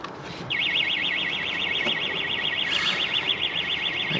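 An electronic alarm sounds in a garage-type setting: a warbling, rapidly oscillating tone kicks in after a half second and keeps going steadily at moderate loudness over faint background noise, with no talk.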